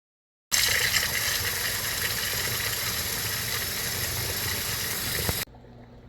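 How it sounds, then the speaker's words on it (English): Water runs steadily from a tap into a clogged kitchen sink drain, a loud, even rushing flow that starts abruptly, holds for about five seconds, then cuts off, leaving a faint hum. "I'm going to come run the water for a long time and see if it actually continues to drain"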